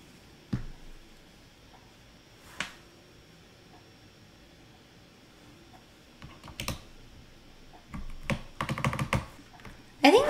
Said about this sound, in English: I'll be quiet and then we can do the typing test.